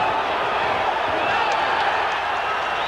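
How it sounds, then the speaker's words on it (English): A boxing arena crowd at the Sugar Ray Leonard versus Floyd Mayweather Sr fight roars in a sustained, dense wash of yelling and noise, loud and continuous throughout. "Crowd yells, but that was a slip."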